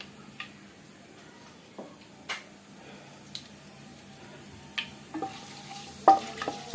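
Whole spices drop into hot oil for an egg omelet curry, giving scattered small ticks and pops over a faint, low sizzle. The crackles grow a little busier toward the end, all quiet and close.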